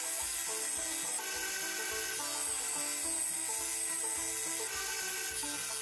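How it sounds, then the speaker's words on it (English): A 1x30 belt grinder running an 80 grit belt refines the bevels on a knife blade, a continuous close grinding hiss with shifting rasp as the steel is pressed and moved, no talk. "what I'm using here is an 80 grit belt on the 1x30, and it's just letting me really get in there and really refine the bevels"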